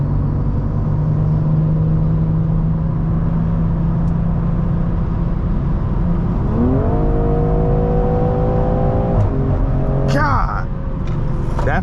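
A tuned BMW M340i engine roars loudly and continuously on a drag run, rising in pitch through the gears with a shift near the end, heard from inside the car.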